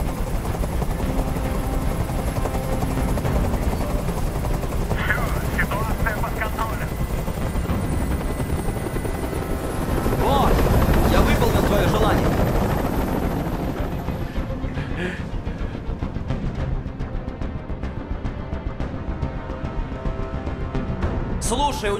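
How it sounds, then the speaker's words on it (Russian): A helicopter hovers in the video game Detroit: Become Human, its loud continuous rotor roar filling the scene with a brief surge midway, while characters speak over it. "Как же меня бесит этот звук! Прикажи им, чтобы вертолет убрался!"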